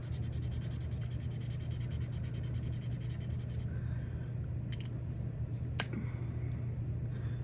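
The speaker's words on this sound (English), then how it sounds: "All you have to do is scribble it off and you're good to go." A marker nib is scribbled clean on paper, a quiet, steady scratchy rubbing that stops partway through, followed by a few faint taps and clicks over a low background hum.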